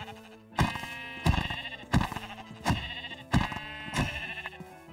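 Sheep in the Minecraft mod Cobblemon bleat about six times in a steady rhythm, each call loud and close with a sharp onset, with no talking over them.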